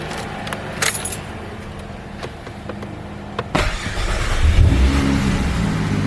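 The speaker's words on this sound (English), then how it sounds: "start the car" A turbocharged car engine is cranked over and fires up after some faint clinking of keys, then settles into a steady, close idle hum with a slight rev.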